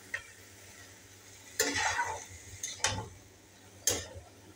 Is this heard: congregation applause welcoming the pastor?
no